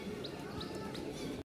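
Pigeons in a cage outdoors, soft cooing and a few brief chirps over a dense, steady background bustle, ending in an abrupt cut.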